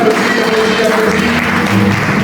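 A congregation applauds during a worship service, steady dense clapping from many hands with music and voices mixed underneath throughout.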